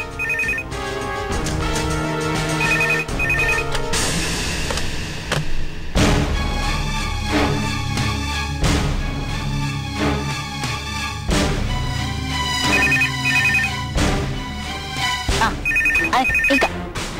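A mobile phone ringtone plays loudly and continuously as a repeating melodic tune with a steady beat, filling the whole stretch without any voices.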